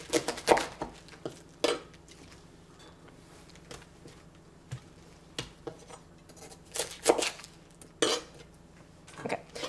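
A kitchen knife cutting through a cabbage on a board, giving scattered crisp, crunchy slicing strokes at uneven intervals, close and fairly quiet, with no talk.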